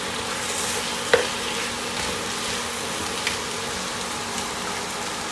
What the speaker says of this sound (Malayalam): മസാല എല്ലാ സ്ഥലത്തും എത്തുന്ന പോലെ മിക്സ് ചെയ്യുക.